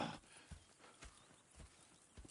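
Horse hooves clip-clopping at a slow walk in Red Dead Redemption 2, soft evenly spaced steps with a brief snort or whinny at the start, quiet and fairly close.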